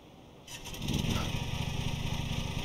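Lawn mower engine in a lawn mowing simulator game cranks and starts, then settles into a steady, fairly loud running drone that continues to the end without speech.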